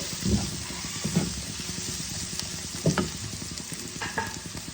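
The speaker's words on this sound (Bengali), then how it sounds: "সবজিগুলোর সাথে মশলাটা ভালোভাবে কষে গেছে।" Vegetables and spices sauté in a pan, a continuous close sizzle with a few heavier scrapes and knocks from stirring now and then, heard alone without any talk.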